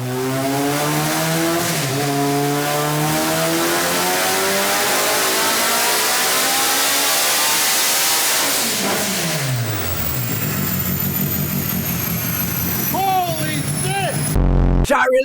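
A car strapped to a dyno with a wideband sensor in the exhaust pipe screams through a long rising full-throttle pull, then drops off and cuts to a loud burst, with voices faint underneath.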